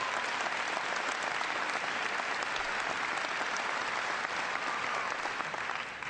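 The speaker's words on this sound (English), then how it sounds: "Give Karen a big round of applause." A large audience at a town hall meeting in Nashua, New Hampshire applauds for Karen Mills, making a dense, steady wash of clapping that holds evenly from start to finish.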